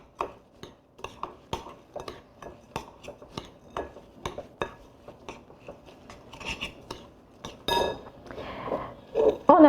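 A spoon clinks repeatedly against a bowl while sugar and cocoa are stirred together for almond-heart pastries, sharp irregular taps close up with rustling scrapes toward the end.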